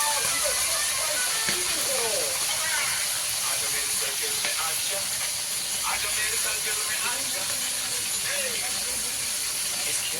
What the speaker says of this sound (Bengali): তা ভাজা চলছে